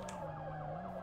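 A police siren in a crime video game wails in a rising and falling pattern, steady and fairly faint over a low engine hum, in a brief burst.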